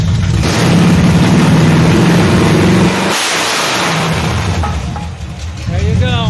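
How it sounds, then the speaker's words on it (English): A big block 7.4L 454 V8 in a 1974 Nova running on an engine stand without its radiator, loud and close, held at a high rev, dropping off, then rising again, with a voice over it near the end. "So we'll give it one more rev and then I'll shut it down."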